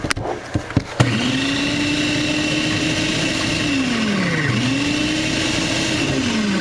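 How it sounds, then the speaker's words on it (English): Onion being finely chopped in a food processor: a few sharp clicks and taps at the start, then a loud, continuous whirring motor whose pitch rises and dips as the blade spins. "I want to get it actually to a very fine chop"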